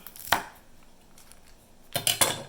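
A knife chops fresh parsley on a cutting board in a home kitchen, one sharp cut near the start and then a quick burst of three or four chops near the end, close and fairly quiet with no talking.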